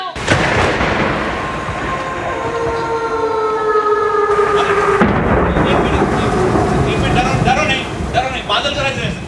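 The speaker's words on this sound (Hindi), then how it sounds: "बादल गरज रहे हैं। देखो देखो लाइट भी आ गई, बादल गरज रहे हैं।" Loud thunder rolls and rumbles through a stormy night, a heavy continuous growl with rain-like hiss beneath, while voices speak over it.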